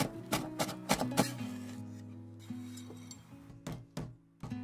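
Knife chopping finely sliced lemongrass on a cutting board, a cluster of sharp close taps followed by a pause and a few more scattered chops, with steady low background hum.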